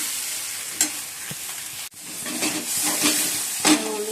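Spice paste of turmeric and Kashmiri chili powder sizzling and frying in plenty of oil for potato curry, with a steady hiss broken by several sharp stirring scrapes of a spatula.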